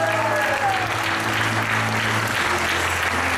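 A concert audience claps loudly and steadily, dense applause filling the whole stretch while a held low tone from the stage sound system runs underneath.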